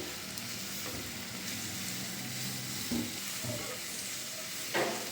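Onions and green chillies frying in oil for a curd tempering, a soft, steady sizzle with occasional stirring scrapes and a brief clink near the end, fairly quiet throughout.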